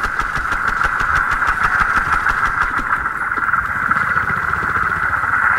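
A vehicle engine in the video game Battlefield: Hardline drones at a steady, loud mid-pitched idle with a constant rumble and no speech.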